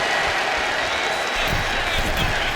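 A packed WWE Raw arena crowd roars steadily through an eight-woman tag match, a dense wall of cheering with no breaks, while a commentator talks over it.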